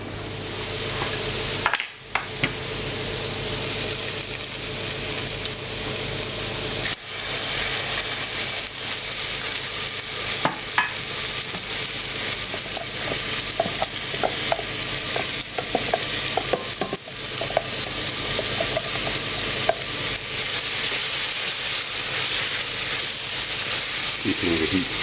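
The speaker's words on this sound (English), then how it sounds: "I'm cooking this very slowly" Sliced onion rings frying slowly over low heat in a pan, a continuous close sizzle with intermittent scraping and stirring clicks from a utensil throughout, and occasional faint speech underneath.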